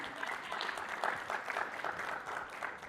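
A conference audience at the PPMD 2022 Duchenne annual conference applauds Pat Furlong. The clapping is fairly quiet but steady, with a gentle swell and continuous texture from start to finish.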